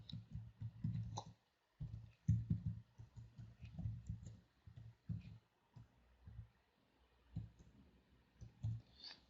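Quiet computer clicks and taps, a scattered series of short sharp clicks at close range with gaps between them, no voices.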